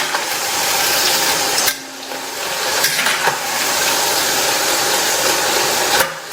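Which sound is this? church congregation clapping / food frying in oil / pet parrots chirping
food frying in oil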